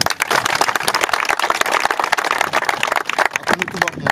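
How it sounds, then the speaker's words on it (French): Trainees on a tactical police close-protection course give dense, continuous hand clapping that is close and lively throughout the short burst of applause. "Applaudir."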